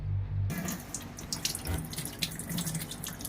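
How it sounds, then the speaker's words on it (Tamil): Hands washed under a running tap with homemade neem soap, steady splashing water close by after a short start, with scattered drips and rubbing and no voices. "நான் கை கழுவி காட்டுறேன் எப்படி இருக்குன்னு பாருங்களேன்"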